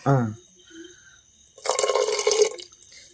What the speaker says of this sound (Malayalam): ഇനി നമ്മൾ ഇതിന്റെ അകത്തേക്ക് ചേർക്കാൻ പോകുന്നത് നമ്മുടെ ഈസ്റ്റ് നമ്മൾ ഒഴിക്കാം